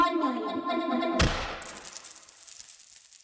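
A coin sound effect in an FL Studio beat: a bright metallic clink cuts in after a tonal musical passage and rings out in a thin high shimmer that slowly fades.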